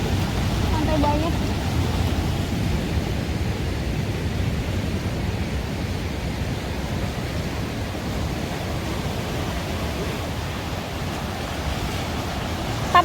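Ocean surf at Bayah beach in Banten, Indonesia, a steady broadband wash of waves rolling in, constant and fairly loud with no clear breaks.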